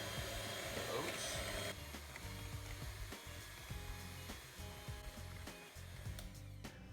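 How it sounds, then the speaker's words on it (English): An electric hand mixer runs on low speed, folding oats into a flourless chocolate raspberry protein muffin batter, a steady near whir with uneven scraping and thumps against the bowl, louder at first then settling. "Put this on low center and slowly mix in the oats."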